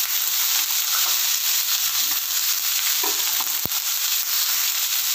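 Vegetables with chopped beans and green peas being stirred and fried in a pan for veg dal, a steady close sizzle with scraping stir strokes and a sharp knock near the end, no talking.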